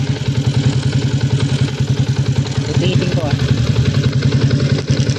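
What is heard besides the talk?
motorcycle engine cam chain tensioner noise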